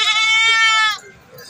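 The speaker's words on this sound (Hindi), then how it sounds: "उधर ही माशाल्लाह बकरियाँ वगैरह खड़ी हैं" A goat at a crowded livestock market gives one loud, drawn-out, wavering bleat close by, lasting nearly a second before fading into low background murmur.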